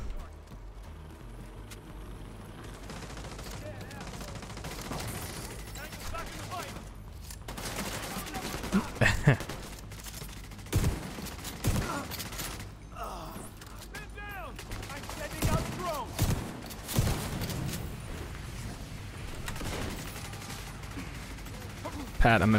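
Video game gunfire from The Division 2: Warlords of New York crackles through repeated bursts and single shots, with louder volleys mid-clip and near the end, under game ambience and players talking over it.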